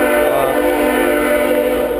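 A loud, sustained train whistle sounds close by on the GAP Trail near Rockwood, a steady multi-toned blast lasting the whole moment with no other sounds.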